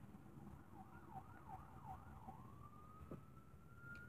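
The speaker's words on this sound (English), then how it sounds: "I'm hearing sirens right now" A distant emergency siren wails faintly, its pitch rising and falling in quick cycles before settling into a long steady tone, under low traffic rumble.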